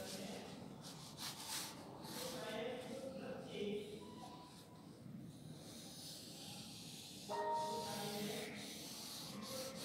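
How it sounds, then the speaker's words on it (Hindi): An eraser scrubs back and forth over paper to rub out extra pencil arcs in a drawing, a steady close rasping that runs throughout, with a faint voice and background sound under it. "ये एक्स्ट्रा जो हमने आर्क ड्रॉ किए थे इनको रब कर देंगे"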